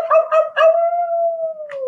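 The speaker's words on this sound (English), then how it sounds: "a wolf is howling" A wolf howls close and loud, a long sliding tone that holds steady and slowly falls, opened by a few short yelping howls from other wolves in a chorus.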